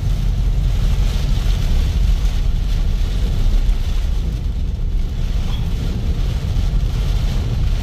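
Heavy rain pours down in a lightning storm, a steady, loud, unbroken roar of falling water that holds its level throughout with no voices.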